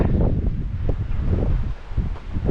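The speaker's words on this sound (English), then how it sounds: "Pretty windy up here." Strong gusty wind on a hilltop buffets the microphone with a steady low roar and rumbling surges, constant and loud, with no voices.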